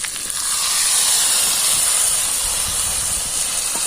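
Fish and a little water added to hot spiced oil for a village-style fish curry, giving a loud, continuous hissing sizzle that starts with a burst and holds steady throughout.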